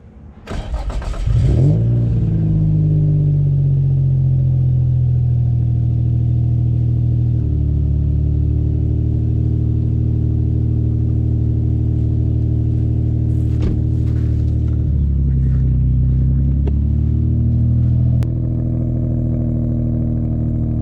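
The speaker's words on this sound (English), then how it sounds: "why not kick off the video with a cold start, right?" An Infiniti M35 cold-starts with a brief cranking burst that catches into a loud flare of revs, then settles into a steady, fairly close idle with a small later blip, no talk.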